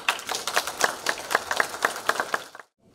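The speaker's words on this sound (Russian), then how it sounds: "стали горячие аплодисменты всех присутствующих в зале" Warm applause from delegates in a meeting hall, a crowd of claps that rises and falls, then cuts off abruptly.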